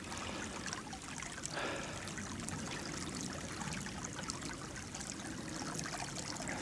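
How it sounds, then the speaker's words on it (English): Water flows steadily through a creek in wooded deer country, a faint, even trickle and rush with no voices over it. "Just water coming through here."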